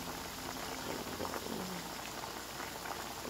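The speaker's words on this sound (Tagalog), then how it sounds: "Nagigisa ko na lang." Squid adobo sautés and bubbles in a pan, a dense, steady crackling simmer heard close up without talking.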